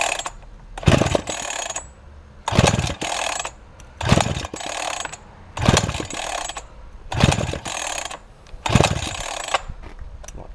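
Repeated pull-starting of a chainsaw that fails to fire: six rasping recoil-cord pulls at steady intervals, each a loud ratcheting whir, with no engine catching in between.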